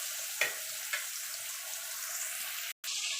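Ash gourd slices fry in a pan of oil, giving a steady dense sizzle throughout with a couple of soft taps and a brief dip near the end, with no talking.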